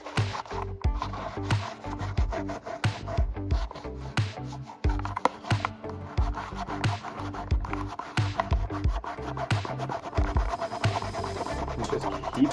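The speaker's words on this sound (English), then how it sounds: "You just keep rubbing until the residue disappears and dissolves from the surface." Paper towel soaked in rubbing alcohol scrubs back and forth over a plastic Hot Wheels protector case, a close, steady scratchy rubbing with repeated strokes and sharp clicks, no voices.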